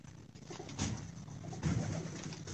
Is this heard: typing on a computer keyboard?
no